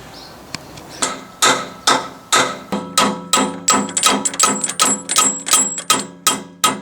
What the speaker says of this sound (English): I was trying to hammer and do it at the same time